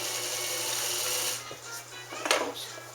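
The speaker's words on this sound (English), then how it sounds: "And wind a bobbin." A Morse straight stitch sewing machine winds a bobbin with a steady, close mechanical whir and a constant low hum, then a few small clicks and a brief rattle as the sound shifts.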